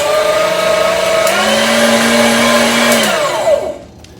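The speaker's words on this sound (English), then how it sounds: "I'm going to give you a taste of how loud this grinder is" A loud electric meat grinder runs alone with a steady high whine and motor drone, one pitch rising slightly before the machine winds down and cuts off near the end.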